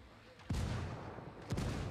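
Artillery fire in the shooter game Ghost Recon Wildlands lands in two heavy booms about a second apart, each a loud broadband blast that leaves a rumbling tail.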